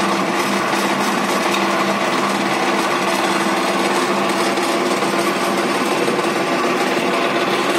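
An electric jewelry wire drawing machine winds wire with a loud, steady mechanical whir that hums continuously at close range, with no breaks and no voices.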